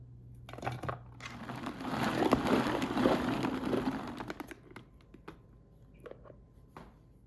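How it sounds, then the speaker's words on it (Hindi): Onion is finely chopped in a chopper for chicken chapli kabab, giving a dense burst of crunchy, rattling chopping that builds for about four seconds, then thins to scattered clicks and knocks. "प्याज को इसमें डाल के बारीक कर लेते हैं।"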